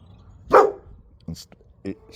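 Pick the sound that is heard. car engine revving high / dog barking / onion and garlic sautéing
dog barking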